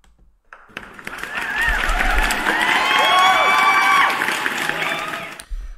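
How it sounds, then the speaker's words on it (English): A crowd breaks into a round of applause with cheering and whoops, swelling after a brief quiet start, holding loud and close for several seconds, then cutting off abruptly. "Let me give you guys a round of applause."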